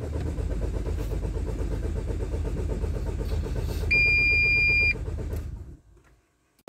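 A Renault Espace 4 engine cranks steadily for several seconds and fails to catch, with a loud rhythmic starter churn and a brief high electronic tone near the end before the sound cuts to near silence.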